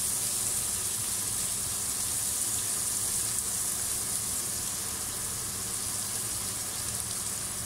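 Cream poured into a mushroom pasta sauce sizzles and bubbles in a hot pan, a dense, steady crackling hiss that carries on unbroken throughout with no voices.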